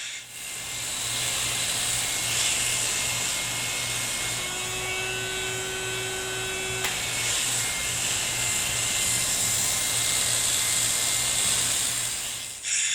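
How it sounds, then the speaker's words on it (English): An electric hair clipper with a 3/16-inch blade tapers side and back hair over a comb during a taper haircut, giving a steady, close motor buzz with a bright hiss that runs unbroken for the whole stretch, with no talking. "When tapering side and back hair with the clipper over comb cutting method"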